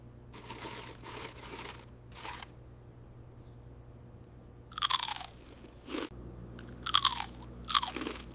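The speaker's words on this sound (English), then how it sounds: "Wow, that's such a satisfying crunch" Potato chips crunched between the teeth, several loud, crisp bursts of biting and chewing close up, separated by quieter stretches with faint background noise.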